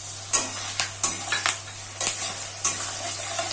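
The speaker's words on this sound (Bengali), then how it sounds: "সয়া সসটা দিয়ে ভালো করে নেড়ে নিচ্ছি" Chilli chicken is stirred in a pan just after soy sauce goes in. About eight scraping strokes of a utensil come at an irregular rhythm over a low sizzle, close and distinct, with no talking.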